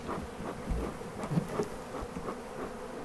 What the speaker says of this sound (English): Got a lot of bees. This is one of the bigger swarms we've had this season